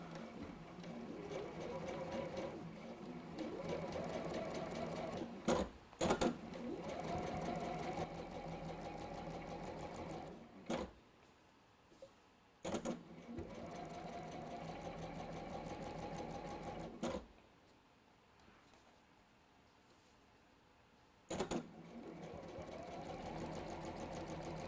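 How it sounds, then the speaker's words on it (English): A sewing machine stitches quilt strips in long steady runs, whirring rhythmically for several seconds at a time with short pauses between seams, moderately close and fairly quiet. "you're actually sewing"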